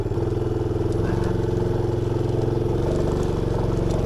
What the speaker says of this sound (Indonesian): Gue perlu parkir motor di sekitar sini kayaknya deh.